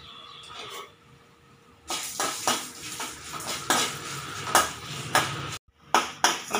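Red chillies, coriander and mustard seeds dry-roasting in a metal pan, with repeated scraping and clinking of a spoon against the pan close by, in bursts that get louder after a quiet start.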